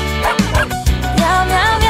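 Short, high yapping dog barks pop up twice within a bright children's cartoon song, mixed under singing and music.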